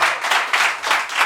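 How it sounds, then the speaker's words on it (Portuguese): Brief burst of rhythmic clapping from a congregation at an outdoor preaching service, close and fairly loud in quick pulsing waves. "Aplaude Jesus de Nazaré."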